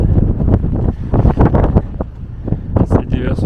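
Heavy wind buffets the microphone in loud, gusty low rumbles beside a lake spillway, with a voice speaking briefly under the blustering noise.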